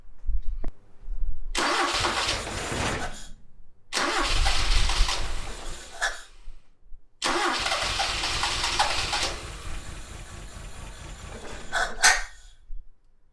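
An old Toyota Celica RA23 engine, not run in years and running rough, cranks and catches in three rough bursts, sputtering and uneven, separated by short silences, loud and close.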